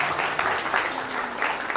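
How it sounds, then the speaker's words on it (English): Applause from a live audience at a hypnosis class, a dense, steady wash of many hands clapping throughout, fairly loud and continuous with no pauses. "Give me a round of applause."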